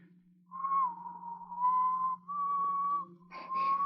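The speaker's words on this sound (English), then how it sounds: "I guess you'd never know from the sound of it, but that's the wedding march" One person whistles the wedding march in a thin, wavering tone, with a low steady hum beneath. The phrases are short and separated by brief breaths.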